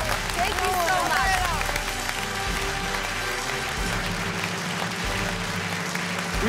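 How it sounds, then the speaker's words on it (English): Audience at a televised talent show semifinal applauding, dense loud clapping that fills the hall, with a voice speaking over it and a few whoops rising early on. "big applause for Ella"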